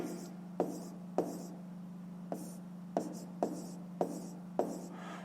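Pen or pencil writing numbers by hand on paper for a fifth-grade maths exercise, a run of short regular scratching strokes, close and clear over a steady low hum, with no talk.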